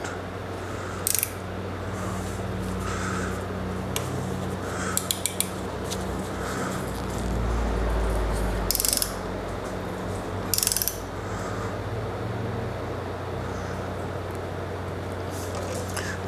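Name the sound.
tightening a mirror mount clamp on Harley Road Glide handlebar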